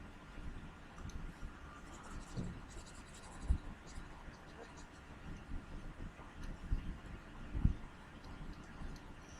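Pen scratching on paper while a math problem about sets is written out, soft irregular strokes with a few sharper taps, faint and close.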